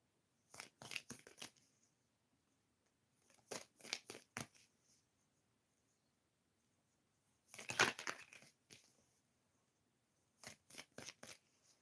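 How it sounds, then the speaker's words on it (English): Tarot cards are shuffled in four separate bursts of quick riffling and rustling, close and fairly soft, with silent pauses between them. "I'm shuffling the cards here."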